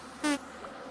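A bee at an apiary in the Vintage Story video game gives one short, loud, high buzz that fades quickly, followed by a faint low hum.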